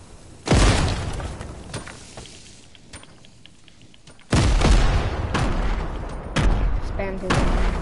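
Grenade blasts in a shooter video game, several heavy booming bursts with sustained rumbling tails, loud and close, separated by quieter stretches of game noise.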